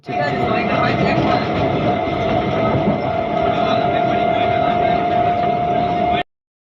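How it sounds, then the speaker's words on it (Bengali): Rajdhani Express train rolling into an Indian station: a loud, continuous rumble and rattle of wheels and carriages with a steady tonal whine, close throughout and cutting off abruptly at the end, with speech mixed in. "স্টেশনে ট্রেন ঢুকছে আমাদের সরকার এতই গরিব যে ট্রেনের মধ্যে সাইলেন্সার লাগায় না তাই প্রচণ্ড আওয়াজ হয়"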